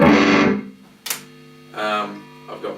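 An electric guitar with a heavy top string, played on the bridge pickup with the treble fully up through a fair amount of distortion, rings out in a few loud fuzzy chords and notes with gaps between them.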